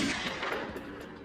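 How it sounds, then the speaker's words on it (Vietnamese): Gunfire rings out in an Arctic hunt of walruses on the ice, a short burst of rapid cracking reports that are moderately loud and echo briefly. "Tiếng súng vang lên dữ dội khiến cả đàn hải mã choàng tỉnh."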